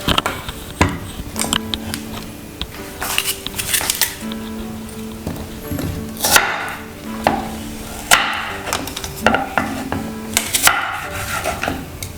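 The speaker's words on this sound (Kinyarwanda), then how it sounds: "Nayo turayikata mu duce duto kugira ngo ibashe guseka neza." Fruit for a smoothie being cut into small pieces with a knife, a busy run of close, crisp chopping taps and soft squishes that continues steadily throughout over a low background hum.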